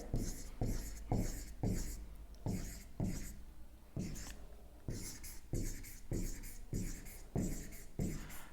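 Pen or chalk scratching out numbers for a class 6 maths subtraction problem, repeated firm strokes in an even rhythm with brief pauses between digits, close and clear with no talk.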